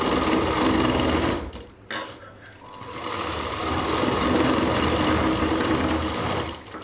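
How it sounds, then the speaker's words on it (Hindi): A sewing machine top-stitches a Rajputi suit kanchli, whirring loudly and steadily up close, with a short pause partway through before the stitching resumes. "अब हमें इसके ऊपर की सिलाई लगा देते हैं।"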